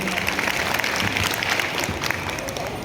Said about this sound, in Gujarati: ફરી એકવાર રૂપાણી કિયાન માટે જોરદાર તાળી થઈ જાય